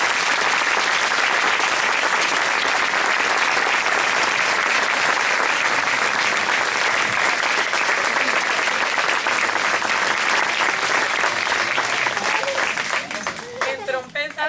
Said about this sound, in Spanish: En clarinete tenemos a Ana, un aplauso